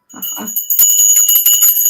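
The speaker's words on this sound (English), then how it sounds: "I'm gonna ring the bell." A small bell is rung close by, its bright ringing tones struck repeatedly in quick succession after a couple of soft knocks, the metallic shimmer sustaining loudly throughout.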